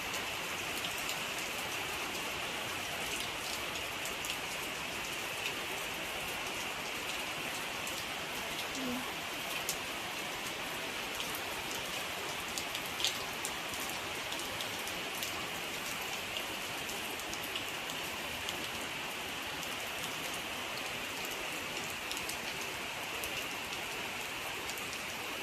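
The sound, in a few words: rain falling on surfaces outside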